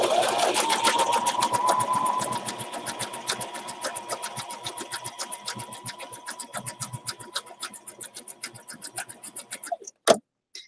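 A sewing machine stitches a zigzag border around a small hot fix fiber charm for Christmas ephemera, its rapid steady needle clatter running close and continuous before slowing to a few final stitches and a clunk at the end.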